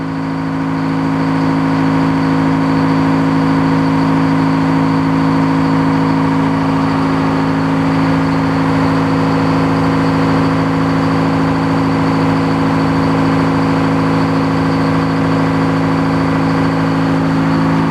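A sawmill engine runs at a steady idle, giving a loud, unbroken droning hum with a constant pitch that holds evenly for the whole stretch, with no voices.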